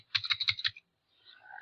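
Quick keystrokes on a computer keyboard, about six crisp close taps in a rapid burst, then silence and faint background noise.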